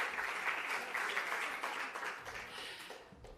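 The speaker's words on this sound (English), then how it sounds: "Give her a round of applause" Faint, soft applause from an audience at a netball awards presentation, a steady patter of clapping that tapers off over a few seconds.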